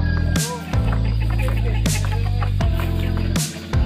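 Chickens cluck loudly and close by, in repeated bursts over a dense, steady hum, with sharp sounds marking the start of each burst.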